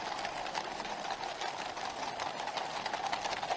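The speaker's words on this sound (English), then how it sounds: "So the horse is now going a lot faster than they would be able to in real life." Horse hooves clip-clop at a quick, steady rhythm in a royal procession, a continuous busy patter of hoofbeats over a mid-level background bed, with no talking.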